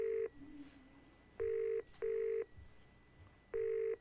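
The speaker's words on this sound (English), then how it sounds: "It sound like it's coming through the speakers, doesn't it?" A telephone ring coming through loudspeakers in a quiet room, four evenly spaced electronic tone bursts, each about half a second, with low room noise between them.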